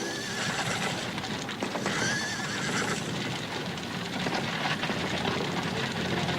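Panicking wagon-train horses whinny repeatedly over a steady clatter of hooves, loud and close, with busy dramatic background noise throughout.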